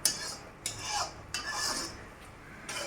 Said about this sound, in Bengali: তো এবার আমি এটাকে মশলার সাথে ভালো করে মিশিয়ে নেব।